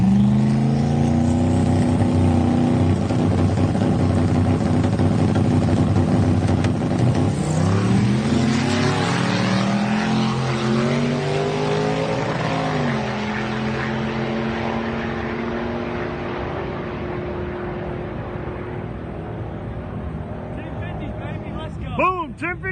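A turbocharged LS-swapped Ford Ranger pickup truck roars through a drag racing pass, its engine note climbing steadily through the gears in a long, loud run before easing off and fading at the end.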